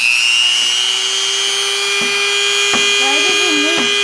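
A cheap Harbor Freight power tool whines steadily and loudly at a high constant pitch, with short voice-like warbles riding over it near the end.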